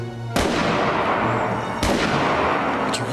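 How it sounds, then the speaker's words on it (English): Two heavy gunshots boom out close and loud, one near the start and another about a second and a half later, each trailing a long rumbling decay, fired at a sniper. "firing again at the non-existent sniper"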